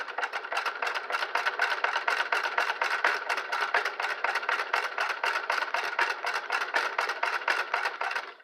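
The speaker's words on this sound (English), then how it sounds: "So let's just watch how this sews." A Singer Spartan sewing machine sewing fabric, running with a steady rapid mechanical clatter of evenly repeating stitches throughout.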